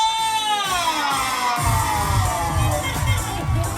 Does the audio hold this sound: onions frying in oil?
no